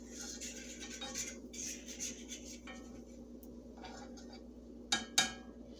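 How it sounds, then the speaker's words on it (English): A utensil stirring flour in a pan for gravy, quiet intermittent scraping and rubbing with a couple of sharper metallic clinks near the end, close and faint. "And I'm also breaking down this flour while I'm stirring it up."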